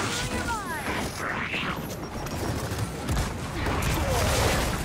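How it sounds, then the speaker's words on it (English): Grenades going off in the video game Gears of War 4, a dense run of muffled bursts and gunfire-like crackle at moderate level, with a voice speaking over the action. "I'm gonna throw nades."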